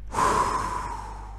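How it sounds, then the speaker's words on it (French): One deep breath is drawn in through the nose and let out slowly, close and clear, rising quickly and then fading over about a second. "On respire."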